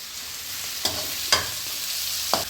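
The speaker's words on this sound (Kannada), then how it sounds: "ಚಟಾಪಟ ಚಟಾಪಟ ಅಂತಿದೆ." Chilli frying with onions in hot oil gives a steady soft sizzle broken by a few sharp crackling pops spaced about half a second to a second apart, close by with no talking.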